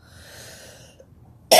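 A single sharp cough bursts out loudly at the end of a short stretch of quiet, faint speech.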